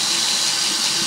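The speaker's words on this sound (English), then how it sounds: "Run this under hot water for a few seconds, front and back" Hot tap water runs steadily over a razor blade as it is rinsed front and back, a continuous close hissing stream with no talk.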